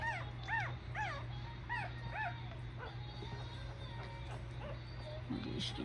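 Several puppies whimper and yip in high, rising cries, repeated close by over a low steady hum, with softer whines later.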